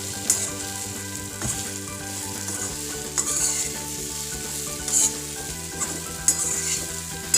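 Okra is stir-fried in a pan, sizzling steadily and loudly up close while a spatula scrapes and stirs in irregular strokes.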